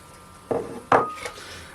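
Coconut semolina cake batter stirred by hand in a bowl: a few scattered knocks and scrapes of the utensil against the bowl, close and fairly quiet, with no talking.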